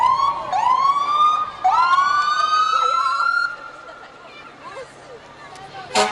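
Sirens on BC Sheriff's Service vehicles sound during the Vancouver Canada Day parade with two loud, rising wails close by. A fainter background follows as the sirens trail off.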